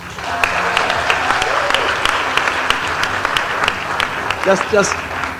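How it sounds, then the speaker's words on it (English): Steady applause from a crowd at a ceremony honouring high-achieving HSC students and university graduates, dense clapping throughout with a few louder claps standing out near the end. "So a special round of applause for her."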